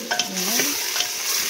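Chayote sautéing in a frying pan is stirred, with a brief scrape and clatter of a utensil against the pan over a bright sizzle, close and with no talk.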